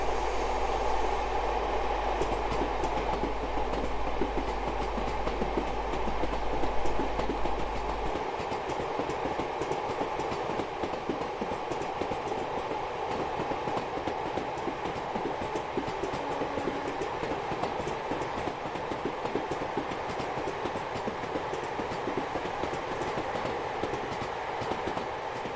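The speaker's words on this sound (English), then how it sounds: "the thing about the Anglia region is that it's full of like track joint sounds" A Class 50 diesel locomotive in Train Sim 2021, running Great Yarmouth to Norwich through the Anglia region, rolls over jointed track with a steady, dense clickety-clack beneath a constant engine and wheel rumble, loud and close throughout.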